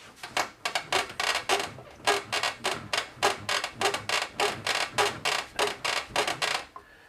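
A rhythmic series of squeaks from an ungreased upper control arm joint on a 1966 Ford Mustang, about two dozen evenly spaced creaks repeating steadily with no talking.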